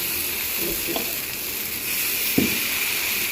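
Uttapam batter hits an oiled pan and sizzles, a continuous close hiss with a few soft stirring and scraping touches, and no talk over it.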